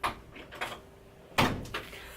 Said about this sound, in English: My 3-year-old's trying to slam the door because she's mad at me